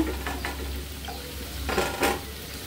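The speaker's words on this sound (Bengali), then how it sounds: "আর এই যে এদিক দিয়ে দেখেন আমি কালা বুট ভুনা করতেছি, সাথে একটু আলু দিছি।" Black chickpeas cooked with a little potato in a pan, stirred while they fry, give a steady low sizzle with scraping spoon strokes and a few brighter bursts of spitting.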